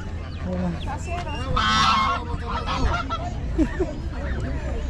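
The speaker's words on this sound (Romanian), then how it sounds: "Rațe și curci." Loud honking and squawking calls from nearby ducks and turkeys for sale at a South American market, overlapping in bursts with a busy outdoor crowd murmuring underneath.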